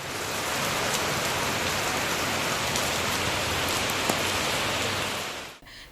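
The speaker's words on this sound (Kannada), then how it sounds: "ನಗರದಲ್ಲಿ ಸುಮಾರು 1 ಗಂಟೆಗೂ ಹೆಚ್ಚು ಕಾಲ ಧಾರಾಕಾರವಾಗಿ ಸುರಿದ ಮಳೆಯಿಂದ ರಸ್ತೆಗಳು ಜಲಾವೃತವಾಗಿದ್ದು" Heavy downpour drenching Mandya city, a dense, steady roar of rain on surfaces that stays loud and unbroken with no voices, cutting off abruptly near the end.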